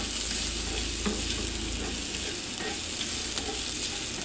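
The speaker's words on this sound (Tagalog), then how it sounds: "At igisa lang natin ng mabuti, guys, hanggang mag golden brown." Minced garlic, onion and ginger sautéing in oil until golden brown, a steady close sizzle with soft occasional stirring clicks, no talking.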